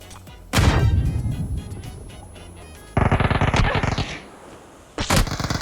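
Uzi submachine gun firing in a shooter video game, loud rapid automatic bursts in three separate strings with short pauses between, no talk.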